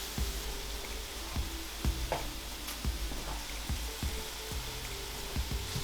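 Korean-style BBQ pork sizzles in a pan under a steady fry hiss, with regular scraping taps of a utensil turning the meat, close and even.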